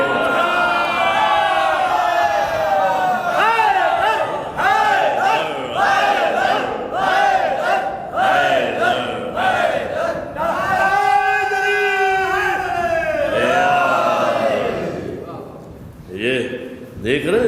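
A large crowd of young children loudly chants Naara-e-Haideri slogans at a religious gathering. The shouted calls rise and fall in repeated bursts that carry on steadily without a break.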